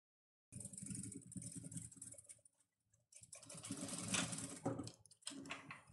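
An electric sewing machine runs a safety stitch on fabric in two bursts of rapid, even needle chatter, with a short pause between them, close and fairly steady.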